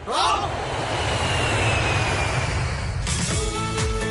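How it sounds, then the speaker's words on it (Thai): An airplane engine roars steadily and loudly throughout, a broad continuous rush that changes character slightly near the end. "เครื่องบิน"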